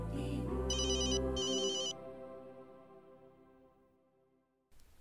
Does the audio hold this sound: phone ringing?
yes